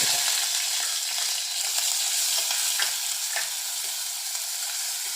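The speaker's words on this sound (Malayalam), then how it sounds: "ഇത് ചെറുതീയിൽ കിടന്നൊന്ന് മൂത്ത് വരട്ടെ." Shallots, garlic, ginger and green chili fry in oil over a low flame, giving a steady, bright sizzle with light stirring scrapes, close up and without speech.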